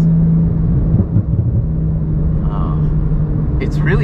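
A turbocharged, street-converted 800 hp Porsche GT3 Cup car holds at 3,200 RPM, heard from inside the cabin as a loud, steady, deep engine drone with slight rumbling swells.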